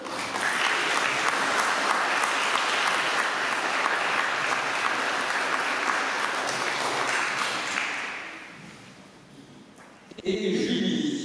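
A church congregation applauds loudly and steadily through a Sunday service for several seconds, the clapping fading away near the end before a voice begins speaking.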